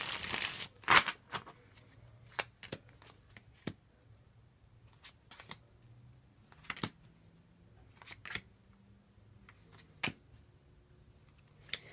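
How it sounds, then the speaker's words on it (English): A tarot deck being shuffled by hand: a crisp riffle at the start, then scattered sharp card slaps and shuffling taps spread through a quiet room, with no talking. "One more shuffle."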